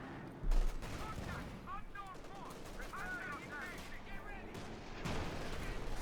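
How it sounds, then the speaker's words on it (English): Bazooka fire hits a Panzer IV in Company of Heroes 2, a World War II strategy game: a sharp blast opens, followed by rattling gunfire and battle noise under steady commentary. "Bazooka fire there on the Panzer IV"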